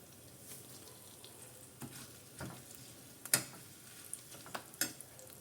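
Curry leaves and asafoetida sizzle in hot oil for a raw mango pickle, a faint steady hiss broken by a few sharp pops and crackles near the end.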